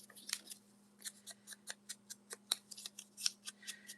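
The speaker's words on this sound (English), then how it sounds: "And I am going to cut this part off." Scissors cutting a paper tag, with a quick series of about a dozen crisp snips at a steady rhythm, close and quiet over a low background hum, with no talking.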